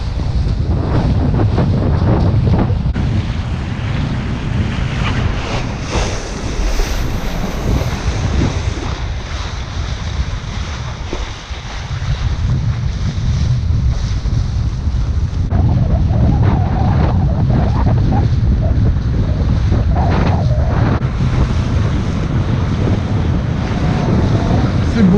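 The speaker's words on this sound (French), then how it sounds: "le vent a forcé un peu" Strong wind over the sea buffets the microphone in a constant roar, with the wash of sea waves underneath throughout, at a kitesurfing spot.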